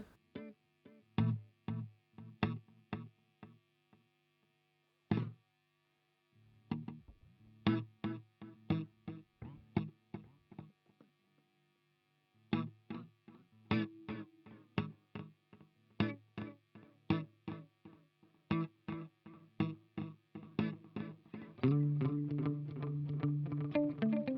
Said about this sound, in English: But we'll add a tape delay.